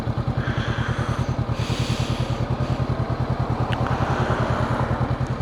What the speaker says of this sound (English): But it does sound better than the standard exhaust.